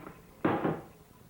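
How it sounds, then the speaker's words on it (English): A single wooden drawer slides open after a push from a foot, giving one short scraping rumble in an otherwise quiet room. "Use the foot again in opening the drawer."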